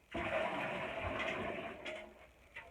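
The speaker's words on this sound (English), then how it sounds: "it's just quicker and easier if I just scoop it out of the tub" Water is scooped by hand from the tub of a wringer washer, a near, continuous watery slosh and rush lasting a couple of seconds, ending in a small splash.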